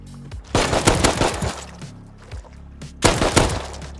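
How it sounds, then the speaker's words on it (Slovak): Two loud bursts of rapid automatic gunfire in the survival video game Rust sound close by and are separated by a quieter gap with fainter shots. "druhý strieľal z pravej strany a nevidel som ho"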